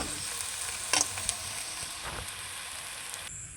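Rohu fish heads sautéing in a pan with elephant foot yam and potato, a steady close sizzle with a few brief scraping stirs and no talk.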